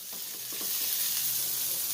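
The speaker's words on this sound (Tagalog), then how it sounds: "Igisan natin yung sibuyas. Next is garlic. Next is luya." Onion, garlic and ginger sauté in hot oil in a pan, giving a steady, close sizzle with faint stirring scrapes throughout.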